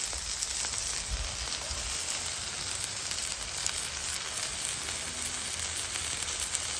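Deer bacon cheeseburgers fry on a hot griddle with a steady, dense, close sizzle, loud and continuous with no talking.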